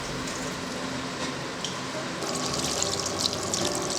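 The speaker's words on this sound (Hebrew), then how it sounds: "שוב מוסיפים קצת מים רותחים" Boiling water is poured steadily into a pot of carrots and zucchini for Uzbek lagman noodle soup, making a continuous close splashing gush that grows a little louder toward the end.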